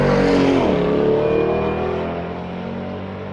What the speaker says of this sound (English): Chris away in his Mustang GT.